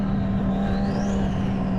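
A 1000-horsepower twin-turbo Audi R8 accelerates hard in a steady, loud drone heard from inside the car, with a rising turbo whine sweeping upward through the pull.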